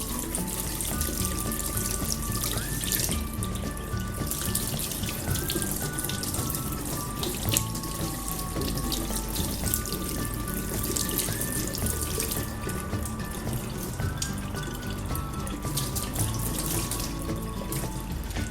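A tap runs steadily into a sink while a makeup brush is rinsed, a continuous splashing rush with small shifts in tone as the brush moves through the stream.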